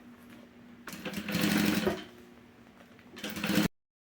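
A sewing machine runs a safety stitch on synthetic bias-bound fabric for a box-style cosmetic pouch, with a steady whirring burst, a pause, then a second short run. No one speaks.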